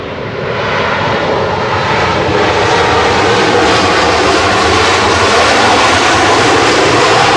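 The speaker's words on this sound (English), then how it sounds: "Ryanair again, showing everybody else how it's done with the reverse thrust today." A Ryanair Boeing 737-800 lands at Manchester Airport using reverse thrust, producing a loud, sustained jet engine roar that swells early and then holds steady and broad, with no talk.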